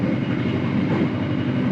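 Malioboro Ekspres passenger train, a steady loud rumbling drone of the rolling carriage heard continuously and close, with no talk.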